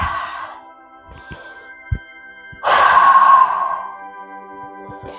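A person breathing deeply while holding a yoga pose, with a soft exhale, a quiet pause, then a long, loud sighing breath out, heard close with no speech.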